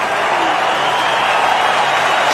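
A cricket crowd at the SCG rises and cheers during a tense one-day final, a steady, dense roar of voices and scattered clapping that fills the whole moment without a break.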